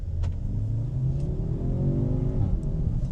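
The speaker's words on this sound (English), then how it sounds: "Can hear the turbo kind of spooling" A 2025 Audi S3 launching under launch control, its engine revving hard and climbing steadily with the turbo spooling up and aggressive gear shifts, loud and close throughout.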